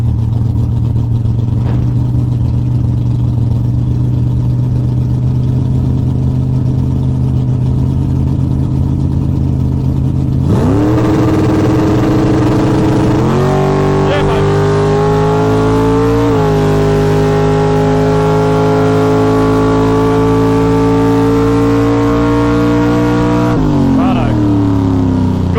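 A drag race car's engine idles low, then revs hard and climbs through gear changes, each shift stepping the pitch down before it rises again. The roar is loud and close and lasts the whole run, with a voice talking over it.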